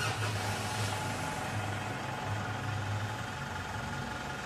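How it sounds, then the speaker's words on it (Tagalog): A Mitsubishi Strada pickup's engine idles steadily and close after an oil change and flush, a continuous mid-pitched rumble with light vibration and no voices. "tapos pa-start ko na itong makina."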